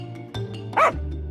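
Dogs barking and yelping in a short, scrappy burst as they fight over food scraps on leaf plates near a garbage heap, one sharp bark followed by a louder snarling yelp, with a steady low hum underneath.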